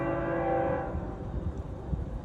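A train's horn sounds in a sustained harmonic blast that fades within the first second, leaving the low rumble of the passing train rolling on at moderate distance.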